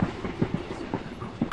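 A passenger train running at night, heard from inside a sleeper coach: steady rumbling with faint rhythmic wheel clatter, fairly quiet, with a brief louder hiss at the end.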